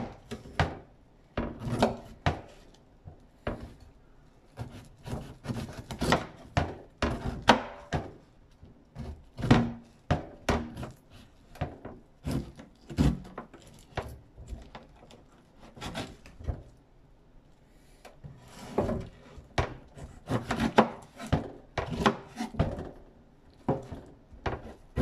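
Knife chopping through a pineapple on a cutting board, a steady run of sharp, close, fairly loud cuts in quick bursts with brief pauses, the blade thudding against the wood.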